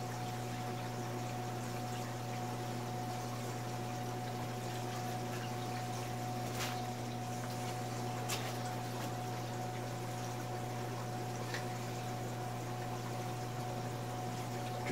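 A drip line carries water into a container while new fish, a yellow coris wrasse, are acclimated. A soft continuous trickle sits over a steady pump-like hum, with no talking.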